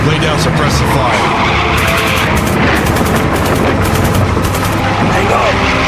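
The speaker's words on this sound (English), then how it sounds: "Lay down suppressive fire." Rapid bursts of automatic machine-gun fire in a video game vehicle chase, crackling steadily over a dense, loud bed of engine and road noise with no pauses across the clip.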